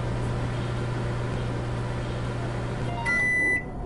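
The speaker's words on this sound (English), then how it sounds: "Close the door and let me get a shot of the microwave a running." An appliance hum from a microwave oven running in the video game Job Simulator carries on steadily, then stops with a clear electronic beep near the end.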